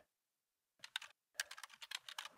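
Short bursts of typing on a computer keyboard, quick clustered key clicks after a brief silence, faint and close.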